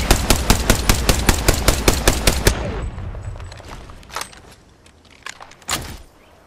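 Automatic gunfire in the battle royale shooter Apex Legends comes as a fast, loud, evenly spaced burst of about a dozen shots. It stops after a few seconds, leaving softer rustles and two more isolated shots.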